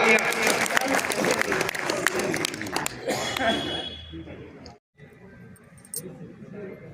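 Applause from guests at a senior citizens' organisation foundation-day ceremony, crowded clapping for about three seconds that quickly fades out, followed by a brief gap and quiet room sound with faint voices.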